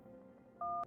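Telephone keypad tones sound in the video game No, I'm Not a Human: a short, clear dual-tone beep after quiet room hum.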